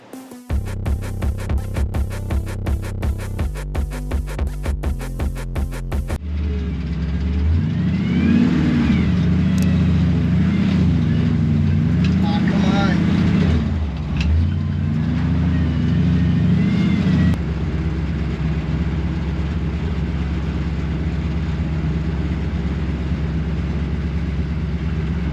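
Car engine pulling steadily while driving on a hot day, a loud low drone that rises and settles as the gears change, with a rhythmic knocking or ticking pattern in the first few seconds before the engine note takes over.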